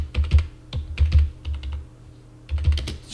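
Keys clatter on a computer keyboard as purchase order details are entered for a computer consumables order, in uneven bursts of close, crisp clicks separated by short pauses.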